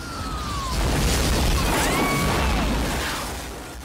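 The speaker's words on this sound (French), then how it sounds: "des explosions filmées sous des angles improbables" Explosions from Michael Bay film footage form a dense, loud, continuous roar. Whistling, siren-like tones glide over it, with a swell in the middle and no speech.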